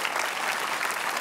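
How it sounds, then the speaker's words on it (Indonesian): Audience applause at a televised Indonesian event, a short, dense, steady burst of many hands clapping together. "Kasih tepuk tangan buat"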